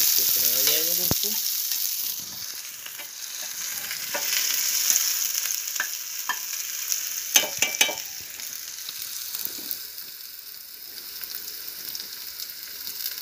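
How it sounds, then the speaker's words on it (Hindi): Garlic and onion fry in oil with cumin and carom seeds, giving a continuous hissing sizzle; the spoon clinks and scrapes the pan now and then, and a short knock opens the sequence. "ये जीरा पड़ गया दोस्तों, इसमें अजवाइन पड़ गई है, और ये लहसुन प्याज पक गया। ये हल्का ब्राउन होगा तब तक इसको चलाया जाएगा"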